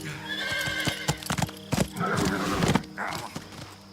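Horse neighing and whinnying in Metal Gear Solid 3, with clip-clop hoofbeats stamping close by. Loud, repeated whinnies sit over the hooves for the whole few seconds.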